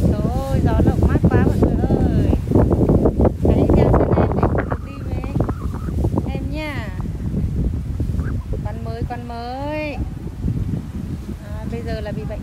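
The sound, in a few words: strong wind blowing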